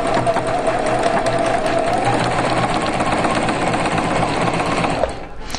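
Sewing machine stitching the neckline seam of a vintage-style dress, a loud, close, continuous motor whir with rapid needle chatter that shifts slightly in pitch before stopping near the end.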